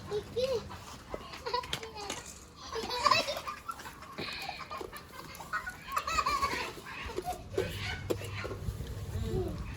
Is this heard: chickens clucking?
yes